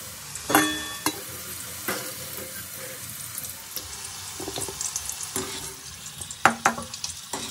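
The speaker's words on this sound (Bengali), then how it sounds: "এবার দেখুন আমি পনিরগুলোকে একটু ভেজে নেব।" Paneer pieces fry in hot oil in a pan, giving a steady crackling sizzle with intermittent stirring clatter and scrapes up close, during preparation of a mixed vegetable dish; no talking.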